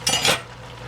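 A utensil scrapes and clinks briefly against a cooking pot while stirring cabbage, a short metallic swish followed by a low simmering background.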